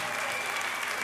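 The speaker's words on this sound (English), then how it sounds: "Give him a big round of applause." Dense, steady applause from a live audience fills the space for a guest who has just performed on a comedy variety show, a continuous wash of many hands with no gaps.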